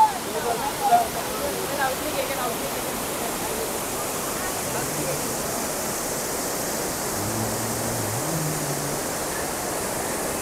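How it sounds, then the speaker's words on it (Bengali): Elephant Falls in Meghalaya, water pouring down from the hillside, makes a continuous broad rushing roar that fills the scene at steady loudness, with a faint voice briefly heard beneath it. "পাহাড়ের উপর থেকে জল পড়ছে"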